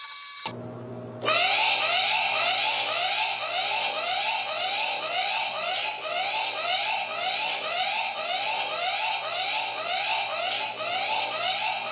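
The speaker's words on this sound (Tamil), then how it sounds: "அந்த நிமிஷமே இது வந்து உங்களுக்கு அலாரம் அடிக்க ஆரம்பிச்சிடும்" A smart wallet's anti-loss alarm goes off once a paired phone moves beyond 15 meters. After a brief tone, it settles into a loud, steady electronic warble that repeats rapidly and evenly for the rest of the clip, with no voices.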